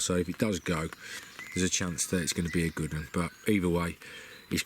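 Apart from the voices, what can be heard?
No everyday noises stand out.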